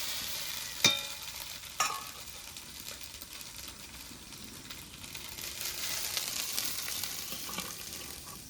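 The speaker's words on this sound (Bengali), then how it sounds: "চাউমিনটা খুব সুন্দরভাবে দেখো ভাজা হয়ে গেছে।" Chowmein noodles frying in a pan, a soft continuous sizzle with two sharp clinks of a utensil early on, close and fairly quiet, no talk.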